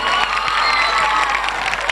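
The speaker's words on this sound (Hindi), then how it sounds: "Please clap for all the teachers." Applause from students at a school annual prize distribution ceremony, a dense, steady crowd clapping that fills the whole stretch with scattered cheers mixed in.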